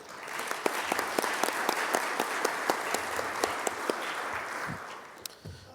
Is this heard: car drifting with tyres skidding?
no